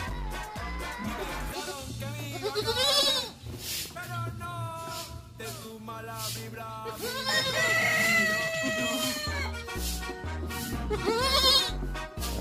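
Purebred Boer goats bleat repeatedly nearby on a farm, loud wavering cries coming in several bursts, with a few quieter calls and bits of background activity between them.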